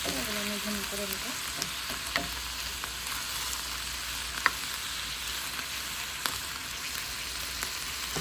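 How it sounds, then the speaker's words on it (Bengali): Food sautéing in a pan on a home stove, a steady close sizzle and fry hiss running throughout, with a few faint clinks of stirring and no talk. "এগুলো আমি ভুন করে নেবো"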